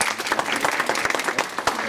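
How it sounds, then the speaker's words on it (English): Audience applause breaks out at a college induction session, a brisk and even patter of many hands clapping together for a couple of seconds with no talking over it. "let's give him a clap"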